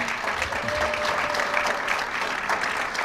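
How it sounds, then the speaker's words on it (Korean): An audience at a Korean alumni business forum breaks into sustained, dense applause, many hands clapping steadily at even volume for the whole stretch. "큰 박수로서 추대를 해 주시기를 부탁드립니다"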